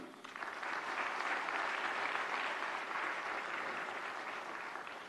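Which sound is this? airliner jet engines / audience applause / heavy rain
audience applause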